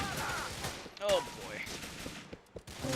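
Gunfire in Grand Theft Auto IV: a burst of rapid game shots, with voices and other game effects mixed through it.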